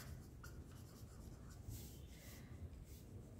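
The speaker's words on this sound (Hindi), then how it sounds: "मैं लिख लेती हूँ क्वेश्चन नंबर 2" A pen writes on paper during a maths exercise, a quiet steady scratching with short strokes and pauses, faint and alone.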